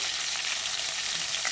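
Food spattering and bubbling hard in a hot pan of oil, a dense, steady crackle that carries on without a break and with no voices over it.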